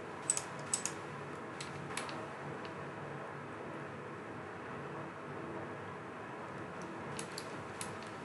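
Computer keys are tapped in a few sparse, light clicks at the start and end, faint against a steady low room hum.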